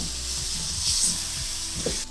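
Meat with fresh green seasoning and curry paste sizzles in a pot for a pelau, a constant hiss under soft scraping and stirring thumps as it is mixed.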